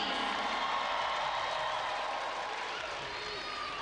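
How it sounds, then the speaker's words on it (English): A swimming-race crowd at the 2019 SEA Games cheers and applauds steadily for Jasmine Alkhaldi, a dense, continuous roar of voices from the stands with no pauses. "Crowd waving their flags and cheering loudly for Jasmine Alkhaldi."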